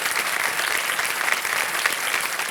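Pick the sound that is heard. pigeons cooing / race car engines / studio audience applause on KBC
studio audience applause on KBC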